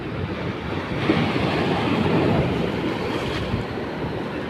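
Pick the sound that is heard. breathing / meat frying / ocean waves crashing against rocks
ocean waves crashing against rocks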